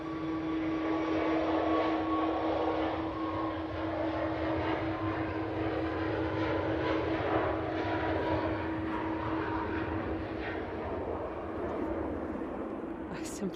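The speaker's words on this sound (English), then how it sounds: "Ryanair heading to Porto. It's a 737 MAX 8." A Ryanair Boeing 737 MAX 8 airliner at Manchester Airport, bound for Porto, produces a continuous broad engine roar with a steady whine, sustained at moderate distance throughout, while people chat intermittently.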